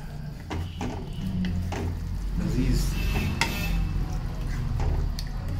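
Mushrooms, peas and paneer being stirred together in a pan, with a steady scraping and clatter of a utensil against the pan over a soft low sizzle, close and continuous throughout.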